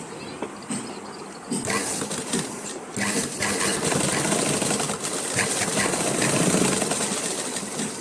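Sewing machine stitching a dhoti, a loud continuous buzzing whir running throughout at close range, with faint background noise and no clear speech.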